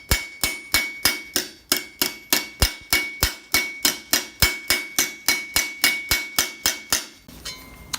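A hammer strikes a chisel against steel armor while shaping a sabaton, a steady run of about two dozen sharp, ringing metallic blows at an even pace, loud and close, before the sound stops near the end.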